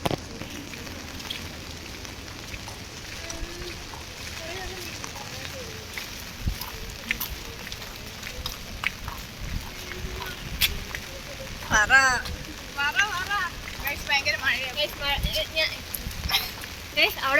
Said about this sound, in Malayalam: ഇപ്പൊ കുട പോലും പിടിക്കാൻ പറ്റാത്ത അവസ്ഥ, അത്രയും മഴയാ. മഴയും കാറ്റും.